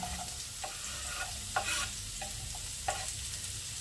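Onion frying in a small amount of leftover fat in a pan, a steady close sizzle with occasional brief crackles and stirring sounds, no talking.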